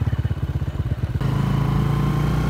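Motorcycles pass along a newly built road in Pakistan: first a close, loud rhythmic engine putter pulsing quickly, then a smoother sustained engine drone with a steady hum as the traffic continues past.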